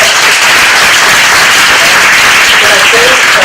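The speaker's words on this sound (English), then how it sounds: "I think we should give you a round of applause." Audience at a book talk about Hong Kong's Occupy movement breaks into a steady, dense round of applause, loud and close, sustained evenly throughout without pause.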